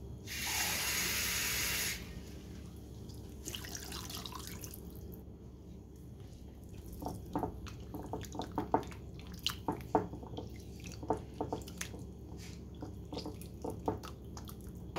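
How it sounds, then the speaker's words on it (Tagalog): Chicken wings are washed under running water: a brief rush of water gives way to scattered splashes, drips and wet squishing sounds, fairly quiet and close. "Lagyan natin ng tubig. Ugasan natin."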